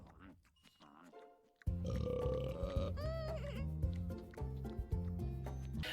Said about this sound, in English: Every single one of them burps when they finish their meal.